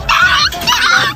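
A frightened small dog gives yelping, voice-like cries, two bursts close and loud in quick succession.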